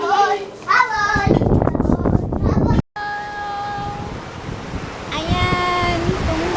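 Sea waves wash on a beach as a steady broadband roar with wind buffeting the microphone, while children and adults talk and call out over it throughout.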